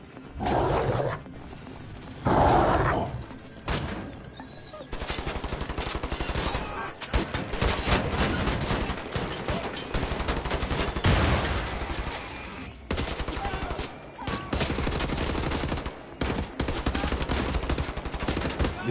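Heavy gunfire rattles through a Wolfenstein: The New Order battle. Loud machine-gun bursts and single shots come in clustered volleys with brief pauses, dense and close throughout.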